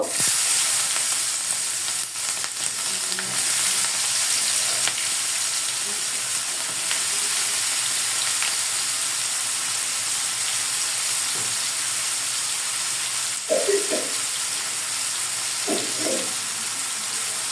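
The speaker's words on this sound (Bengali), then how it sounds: "তো আমি যেহেতু ভুনা করব, এখন আমি পেঁয়াজ কুচিগুলো দিয়ে দিব।" Chopped onions dropped into a hot karai wok for a bhuna, hissing in a continuous loud sizzle with a few faint clinks of utensils near the end.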